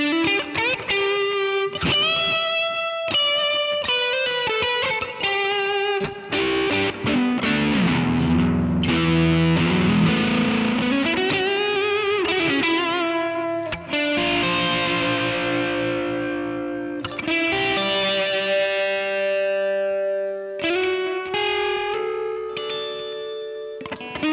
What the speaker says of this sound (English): It's just a drive pedal. Okay. So this is with the gain maxed on it.